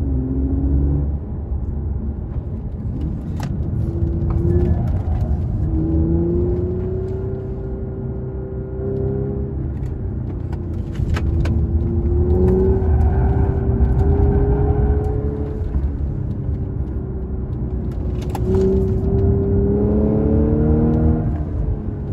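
A 2016 Audi S4 3.0 TFSI quattro drives a one-way hairpin mountain road, its engine note rising and falling steadily as it brakes and accelerates through the bends, with constant road rumble throughout and no talking.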